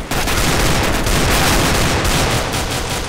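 Sustained, dense gunfire in Counter-Strike: Global Offensive, a loud continuous burst of rapid shots with no break across the few seconds, close and dominating.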